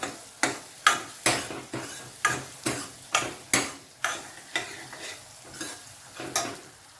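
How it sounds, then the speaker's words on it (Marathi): Semolina (rava) roasts with banana in a pan while a spatula stirs and scrapes it in a steady rhythm, giving about fifteen close, crisp strokes with a faint sizzle between them. "आता हा रवा भाजतो इथे त्याच्यामध्ये मी ऑलरेडी केळं टाकलेलं आहे"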